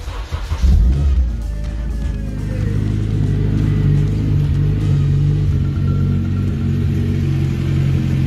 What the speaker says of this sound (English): let's see if this car's gonna start